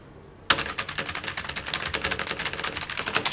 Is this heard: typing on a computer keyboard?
yes